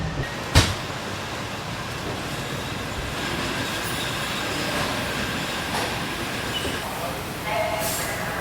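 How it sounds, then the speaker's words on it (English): A Miami Metrorail subway train arriving at Dadeland South, the final stop, rumbles along steadily with rattling wheels and faint squeals, a sharp clunk near the start, and muffled announcement speech under the noise. "Now approaching Dadeland South. This is the final stop for this train."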